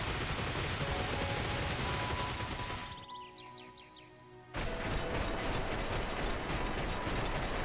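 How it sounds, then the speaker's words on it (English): Rapid weapon gunfire in the battle game PUBG at low frame rate, a loud dense burst that drops out briefly midway with faint chirping, then resumes at full strength. "you can easily hear that the weapon shoots slower"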